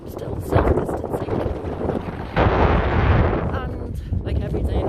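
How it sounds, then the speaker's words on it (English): Strong wind buffets the microphone in loud, rumbling gusts that swell and ease throughout, outdoors in Liverpool, with a brief voice-like sound early on. "like every day in Liverpool, it's still windy"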